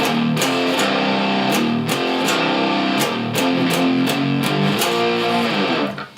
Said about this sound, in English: we're just playing them all as one finger power chords